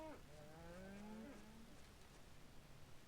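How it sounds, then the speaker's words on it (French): A cow moos in the video game Minecraft, one long, low, falling moo that is fairly faint over a soft, rain-like background hiss, with no talking. "Des vaches."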